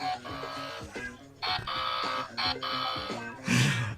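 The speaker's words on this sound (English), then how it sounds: "Get that buzzer ready." A game show buzzer blares in several electronic bursts of varying length, loud and close, with a harsher burst at the end and short gaps between.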